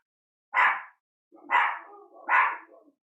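A small 5-pound Chihuahua barks three times indoors, a few high, sharp yaps with short gaps between them, heard clearly with no talking over them.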